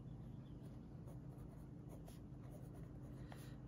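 A TWSBI Go fountain pen with a medium nib writing on paper in a quiet room: a faint, steady scratching that runs continuously, with a few light taps and strokes standing out.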